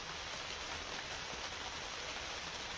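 Steady rain coming down outdoors during maple sap boiling by a wood-fired evaporator, an even, constant hiss with no breaks and no voices.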